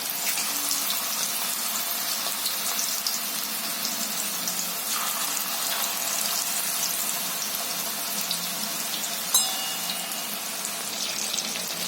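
Chicken pieces fry in hot oil over low heat, giving a steady, dense crackling hiss that stays even throughout and has one brief clink near the end.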